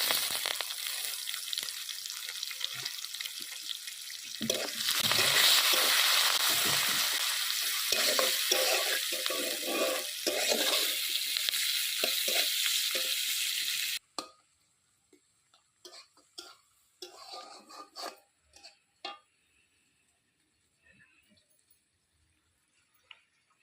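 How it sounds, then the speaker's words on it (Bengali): Chopped onion and slit green chilies fry in a pan with a loud, dense sizzle and stirring scrapes for about fourteen seconds, then it cuts to near silence with a few faint taps and clinks. "পেঁয়াজ আর কাঁচা লঙ্কাটা ভাজা ভাজা হয়ে গেছে"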